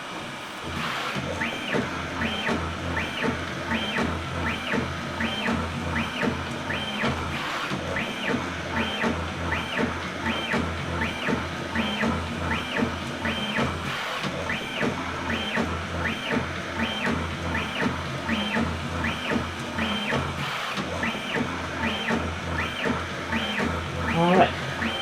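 A Prusa Bear 3D printer upgraded to dual Y steppers runs fast moves, producing a continuous whirring hum of stepper motors with a rapid, repeating warbling tone pattern and a steady rhythmic buzz throughout.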